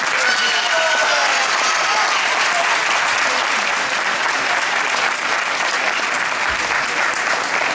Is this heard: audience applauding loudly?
yes